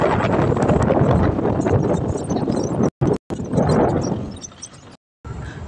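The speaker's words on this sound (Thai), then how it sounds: "ทั้งลมแรง" Strong wind buffets the microphone at a reservoir, a loud rushing roar with brief dropouts and gusts that swell and ease.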